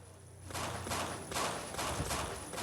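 Gunfire in the Minecraft PE shooting game comes as a few loud, rough bursts of rapid shots, steady and close.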